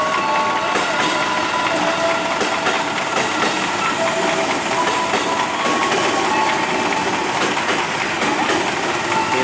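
A KRL commuter train, a JR 205 series bound for Tanah Abang, arrives and stops at platform 3 of Tigaraksa Station in the afternoon, with a loud, continuous rumble of wheels and rhythmic clacking over rail joints.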